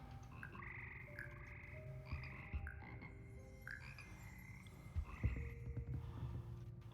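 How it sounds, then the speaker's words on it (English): Frogs of the Hogwarts Frog Choir croak in the Hogwarts Legacy video game, several overlapping calls in short bursts and longer sustained croaks, soft and close against a quiet ambient bed. "Okay, we have frogs."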